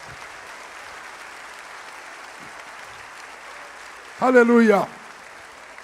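A congregation applauds at an evangelical men's conference, the steady, fairly soft clapping filling the hall while one voice shouts out loudly and briefly near the end.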